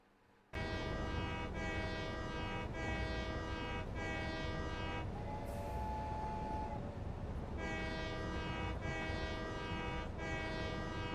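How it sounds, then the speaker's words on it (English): An old-fashioned train whistle in the factory-building game Satisfactory gives a long, loud, steady horn blast, briefly dips in the middle, then sounds again, close and alone with no talking. "randomly you can make it do the woo, the old-fashioned train"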